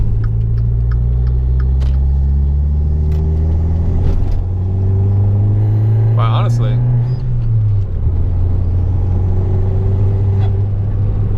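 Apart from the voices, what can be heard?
Dodge Dart 1.4L Turbo car driving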